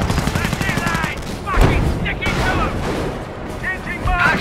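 Bursts of rifle and machine-gun fire in Company of Heroes Opposing Fronts during a battle, with heavy booms and explosions, mixed under voiced unit chatter.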